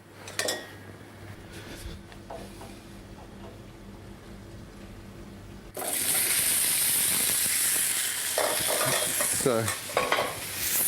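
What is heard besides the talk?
food frying in olive oil in a pan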